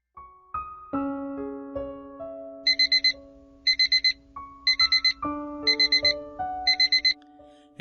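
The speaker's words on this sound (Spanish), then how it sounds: "El despertador suena" An alarm clock rings, with a melodic tone sequence broken by five bursts of rapid high beeping in a steady repeating pattern. It is close, clear and alone.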